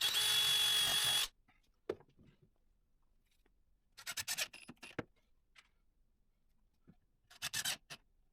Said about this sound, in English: I attach the back piece with 8 screws